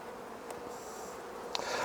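Honey bees hum softly around an open hive during a shook swarm check, a steady faint drone with a couple of brief closer passes.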